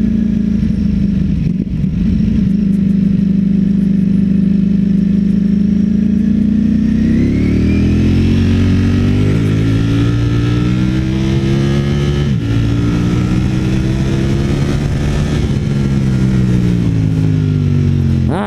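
A Ducati Streetfighter V4S engine idles with a deep, loud, steady rumble, then revs up and down in several rising and falling sweeps, close and alone.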